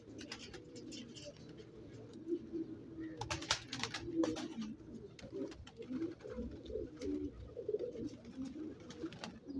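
Kaly Gandedar and Qasid pigeons coo softly and continuously nearby, with low murmuring calls overlapping and a few faint chirps in the background.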